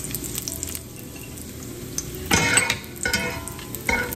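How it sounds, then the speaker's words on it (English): Bacon sizzling in a skillet for spaghetti carbonara: a close, steady frying hiss runs throughout, with louder bursts of stirring and pan scraping near the middle and end, and no talk. "we're going to remove it from the skillet, drain the excess oil out of the skillet, and then we're going to put it back in the skillet"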